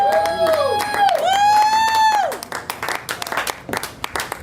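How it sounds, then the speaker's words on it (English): A live concert crowd in Miami cheers as a performer takes the stage: a loud sustained whoop opens the clip, then scattered clapping and shouts follow in an excited, uneven burst. "Start clapping for right now for make her feel at home."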